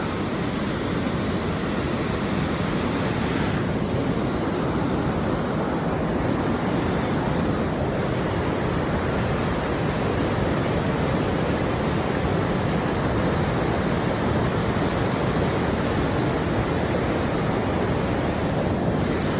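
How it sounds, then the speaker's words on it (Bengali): Meltwater running across a snowy spot and spilling over an edge makes a loud, continuous rushing roar that holds steady throughout, with no voices. "এই সমস্ত পানি এদিকে যাচ্ছে, এদিকে গিয়ে ওই পাশে পড়তেছে"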